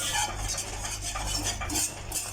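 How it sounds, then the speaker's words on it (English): A whisk works through Mysore pak mixture in a pan to break up lumps, giving a steady, close scraping and stirring rhythm with light metallic clicks throughout, with no talking. "I've actually switched over to a whisk now. So I'm going to get all the lumps out."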